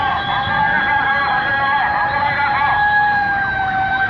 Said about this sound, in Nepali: पछाडिबाट डमकलाको आवाज सुनिरहेछ है